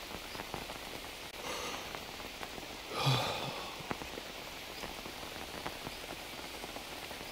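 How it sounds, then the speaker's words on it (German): Quiet, steady rain in the video game Green Hell patters with scattered drops ticking close by and a brief rustling swell in the middle; no one speaks. "Der Regen hört nicht auf."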